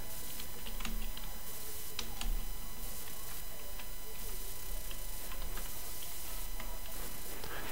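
Rapid keystrokes clatter on a computer keyboard as a sentence is typed, irregular clicks and taps close by, with no talking and a steady background hiss underneath.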